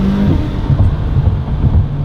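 Deep, rumbling McLaren 570S exhaust, with a valved exhaust and high-flow catted downpipes, burbles and pulses loudly, with choppy low-end crackles and some wind buffeting on the microphone.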